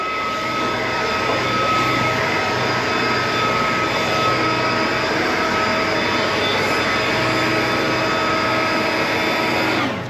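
A Milwaukee 3009-20 battery backpack leaf blower runs on a medium setting over sidewalks and driveways, giving a loud, steady, close airy roar with a high whine that holds constant throughout.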